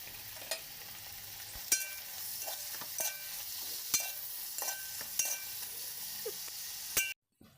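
Chopped coriander and mint fry in a pot for dum biryani with a constant sizzle, while a spatula scrapes and clinks against the metal about once a second before the sound cuts off abruptly.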